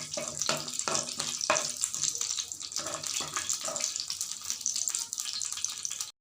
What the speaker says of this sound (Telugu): జీలకర్ర వేసుకొని లైట్గా ఫ్రై చేసుకుందాం